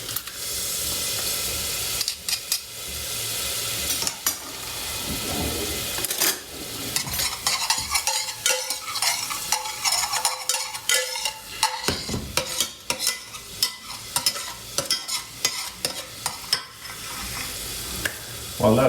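Aromatics fry gently in oil in a pan without browning, a steady broad sizzle with frequent scrapes and clinks of stirring, close and fairly loud for the whole stretch.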